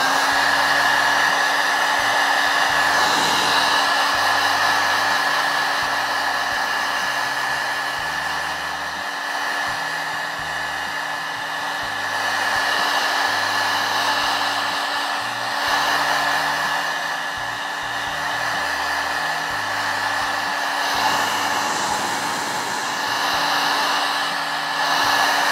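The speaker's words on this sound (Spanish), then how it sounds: "vamos a usar la secadora para que podamos secar más rápido" A handheld hair dryer blowing steadily on freshly painted decoration, a loud continuous whir with a constant whine, swelling slightly as it is moved around, with no talking.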